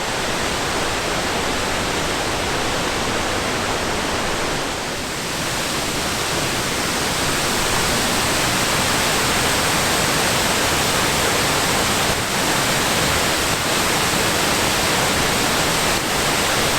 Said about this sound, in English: Absolutely gorgeous waterfall here.